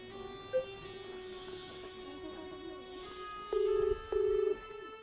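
A phone ringing in a quiet home, two long buzzing ring tones near the end after a brief beep, over faint background hum, with no talking.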